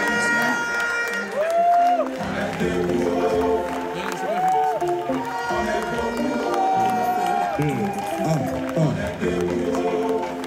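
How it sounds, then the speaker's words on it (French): A standing audience roars with sustained applause and cheering that fills the whole stretch, loud and dense, with music-like tones and crowd voices mixed over the clapping. "Tonnerre d'applaudissements, s'il vous plaît. On se tient debout."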